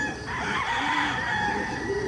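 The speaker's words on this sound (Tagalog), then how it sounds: "Manok ng kapitbahay." A rooster crows loudly and close by, one long drawn-out call that holds steady and then trails off, with faint background noise underneath.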